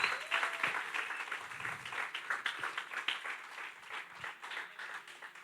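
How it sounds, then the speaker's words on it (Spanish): A church congregation claps together in a steady wash of applause, fairly faint and distant-sounding, with a few voices murmuring underneath. "Dar un aplauso al Señor"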